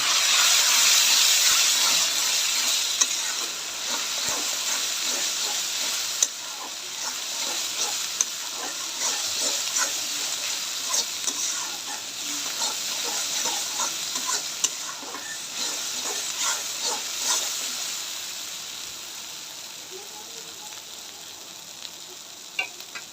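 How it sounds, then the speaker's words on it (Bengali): Spices with ginger-garlic paste being sautéed and stirred in a pan for chicken curry, a steady close sizzle and hiss with scraping stir strokes running throughout, slowly easing in level. "মশলাগুলো ভালো করে কষে নেব।"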